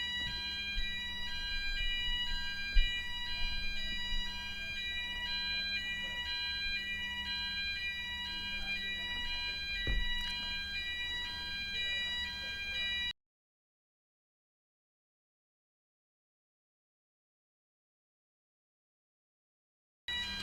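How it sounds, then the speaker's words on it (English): An indoor fire alarm beeps in a steady repeating tonal pattern over a low hum for about thirteen seconds, moderately loud, then cuts to silence, with no one speaking. "Can you guys even hear the fire alarm?"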